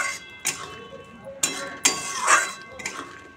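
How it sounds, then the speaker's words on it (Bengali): Metal utensil clinking against a pot while thick masoor dal is stirred, several sharp scraping clinks spaced irregularly, close and fairly loud with no talk. "চলো নাড়িয়ে দিই।"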